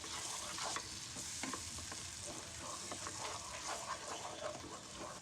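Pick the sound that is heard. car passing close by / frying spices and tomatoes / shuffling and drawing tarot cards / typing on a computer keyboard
frying spices and tomatoes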